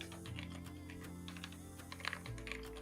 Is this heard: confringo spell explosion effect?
no